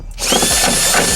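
A power drill starts up and bores a hole through metal while a car roll cage is installed, its motor whining loud and close with a steady high pitch for about a second.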